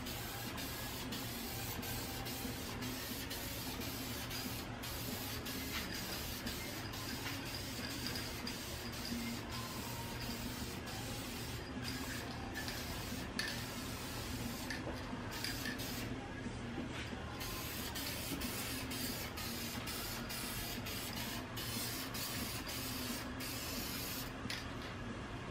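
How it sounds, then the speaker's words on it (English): Wheel gloss clear coat sprays onto the rim of a 2001 Honda Accord in repeated short hissing bursts over a constant soft background hiss, fairly quiet and without speech. "So, we got some wheel gloss clear here."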